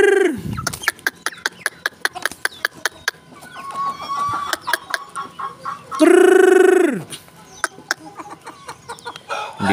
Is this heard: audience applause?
no